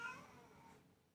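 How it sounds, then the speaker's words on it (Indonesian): A pet cat meows for food, a single close, fairly quiet call that trails off with no one speaking over it. "astagfirullah kucing saya minta makan"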